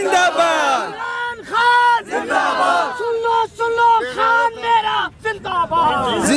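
A large crowd at Minar-e-Pakistan in Lahore chants Imran Khan slogans, loud rhythmic shouted call-and-response bursts in repeated waves of massed voices, close and dense throughout.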